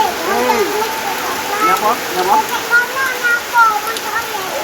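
Heavy rain falls as a steady, loud hiss throughout while people talk close by over it.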